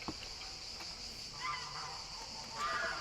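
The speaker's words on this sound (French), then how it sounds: "Ouais, ils sont énervés les oies." Agitated geese at an animal refuge, several faint honks at a distance over steady background hiss, arriving in brief bursts.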